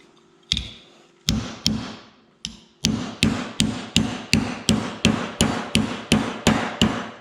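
A hammer taps steadily on a hard surface, a few spaced strikes at first, then a quick even rhythm of loud, ringing blows.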